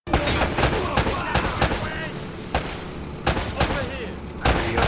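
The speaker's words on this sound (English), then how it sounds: "Less talking, more shooting!" Gunfire shootout in the video game Uncharted: repeated sharp rifle and pistol shots in irregular bursts, loud and close, with brief character voices between shots.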